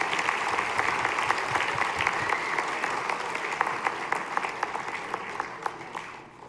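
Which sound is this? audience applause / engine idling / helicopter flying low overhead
audience applause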